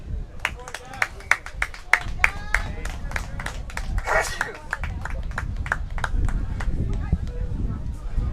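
A rugby crowd at the Atlantic Rugby Championships gold medal match, Nova Scotia versus Newfoundland and Labrador, breaks into steady rhythmic clapping and cheering, the claps crisp and repeated over a murmuring crowd with a commentator talking.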